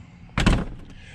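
A vehicle or station door is pushed shut with a single solid thunk, close and fairly loud, followed by a faint latch rattle in an otherwise quiet space.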